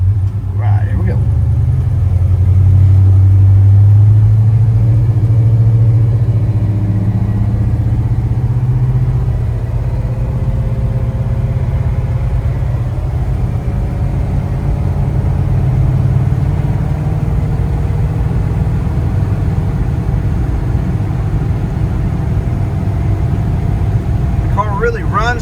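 A 1955 Ford Crown Victoria Skyliner's 272 Y-block V8 rumbles steadily at close range, revving higher early on and then settling into a low, even drone as it drives.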